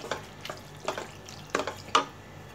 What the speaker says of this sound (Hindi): अब हम इसमें 1 big cup of pasta add कर देंगे। गैस को आपको मीडियम ही रखना है। इसे हम मिक्स करेंगे अच्छे से।